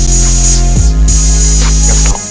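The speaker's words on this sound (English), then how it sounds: "some crunchy distortion on it." Drums run through a crunchy distortion effect in Ableton Live, playing loud and saturated with heavy low thumps, gritty tones and hissy cymbal bursts, alone without voices.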